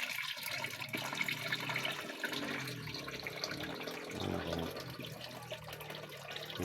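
Water pours steadily from a tap, a continuous splashing hiss that fills the whole stretch with no voices.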